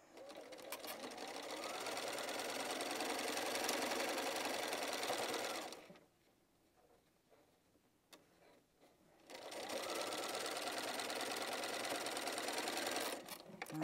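A sewing machine stitches quilt block pieces in two long, steady runs, with a short quiet pause between them. The needle is driven straight over the pins, and the machine hums close and loud.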